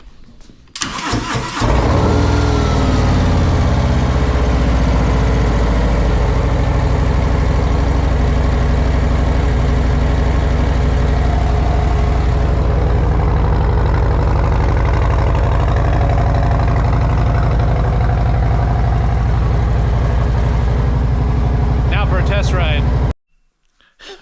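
A 2024 Harley-Davidson Street Glide V-twin with a Stage 1 upgrade fires up inside a garage and settles into a loud, steady, lumpy idle that runs unbroken for about twenty seconds before cutting off abruptly.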